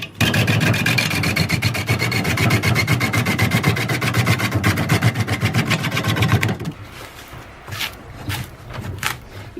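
A wooden bowl blank spins fast on a wood lathe while a sharp gouge cuts it, giving a loud, steady scraping rasp with a rapid regular pulse for about six and a half seconds. It then stops abruptly, leaving a few faint clicks and quiet rustling.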